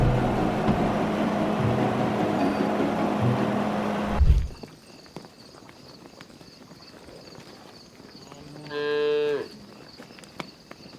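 Cattle on a farm, one cow letting out a single long, loud, close moo near the end, after a noisy stretch of rumbling and clattering sounds that cuts off abruptly, followed by quieter outdoor ambience.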